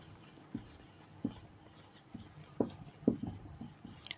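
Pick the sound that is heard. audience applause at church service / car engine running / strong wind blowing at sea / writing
writing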